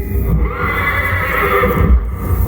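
Horses neigh impatiently before a video-game joust, a loud, close whinny rising and falling over heavy low rumbling and muffled hoof movement throughout.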